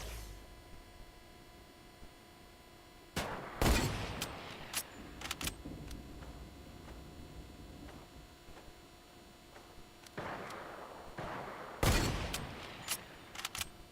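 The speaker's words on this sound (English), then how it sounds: "There's somebody else shooting at him too." Gunfire in a video game, several sharp shots in two clusters spaced apart, with scattered fainter pops between them over a quiet background.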